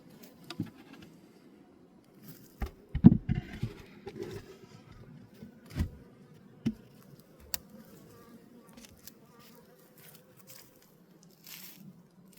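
Honeybees buzz on top of the hive after scrap fondant has been laid there as feed, a faint steady hum broken by occasional soft knocks and rustles close by.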